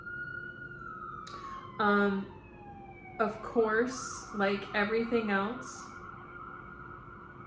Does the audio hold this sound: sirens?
yes